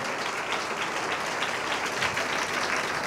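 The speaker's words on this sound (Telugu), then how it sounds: "బిగ్గరగా చప్పట్లు కొట్టి ప్రభుని గణపరచండి." A church congregation at a Sunday service claps loudly and continuously, a dense, close wash of applause that holds steady for several seconds without talk.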